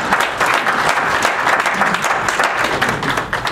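An audience at a protest event applauding, dense steady clapping from many hands, loud and close, continuing for several seconds before tapering slightly at the end.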